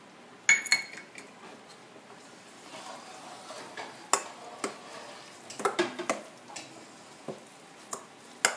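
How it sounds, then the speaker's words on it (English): A spoon stirs onion powder, garlic powder and garlic salt together in a cup, giving sparse, faint taps and clinks against the sides in a quiet room. "and you start stirring"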